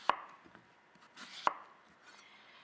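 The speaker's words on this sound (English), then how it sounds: "And then we're gonna cut this into planks." A knife slices through peeled squash on a cutting board, cutting it into planks: three sharp, separate chops against the board, close and crisp, with quiet gaps between them.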